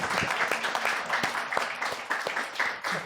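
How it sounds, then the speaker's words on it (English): Audience at a board game design panel applauds, scattered individual claps forming a moderate, slightly uneven ripple that holds steady from start to finish. "then we can get some applause in there"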